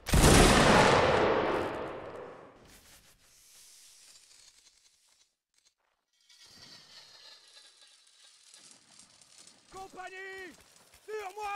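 A dense musket volley in the Napoleonic Wars video game opens loud and close, a broad crackling blast that decays over two seconds, followed by quiet rumbling and then voices talking near the end.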